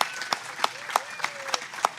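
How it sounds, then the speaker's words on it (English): Audience applause after a poetry reading at Adelaide Writers' Week, sparse rhythmic claps sounding as a handful of distinct loud beats, fairly close. "please, give an extra round of applause for Omar"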